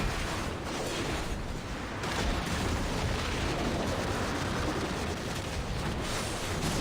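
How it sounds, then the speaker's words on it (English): Explosions in the video game Black Desert, a dense continuous rumble of blasts and booms packed together at steady loudness throughout, with no pauses between impacts. "Explosions!"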